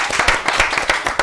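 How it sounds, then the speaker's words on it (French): An audience of children at a kids' show claps for a girl, brisk, dense applause with distinct individual hand claps standing out, close and loud over a short burst. "Des applaudissements pour elle."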